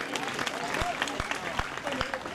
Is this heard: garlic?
no